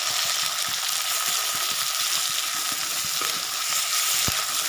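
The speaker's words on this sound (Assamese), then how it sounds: "বিলাহীখিনি গলি নোযোৱালৈকে আৰু কেঁচা গোন্ধ নোযোৱালৈকে এনেদৰে ভাজি থাকিম।" Tomatoes frying in a pan for fish curry give a loud, steady, close sizzle with occasional small pops and light stirring, continuous throughout with no voices.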